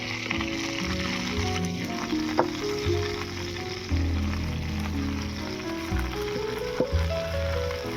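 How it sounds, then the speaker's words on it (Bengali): Sim beans fry in a pan for sim bhorta, a steady close sizzle with light crackles and occasional stirring, set against a faint tonal background. "আবারও বাকি সিমগুলো ভেজে নেব।"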